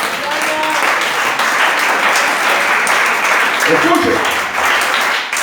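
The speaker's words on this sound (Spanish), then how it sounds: "Denle un aplauso al Señor bien fuerte." A church congregation claps and cheers steadily during a Sunday service, a dense wash of applause from many hands, with a voice briefly speaking over it near the end.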